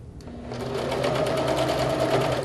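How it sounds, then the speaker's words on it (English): A sewing machine stitches steadily over fabric for a quick quilting project, its fast motor hum and needle chatter running close and continuous with no talking. "hold it and sew over it"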